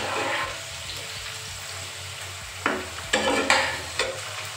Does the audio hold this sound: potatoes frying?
yes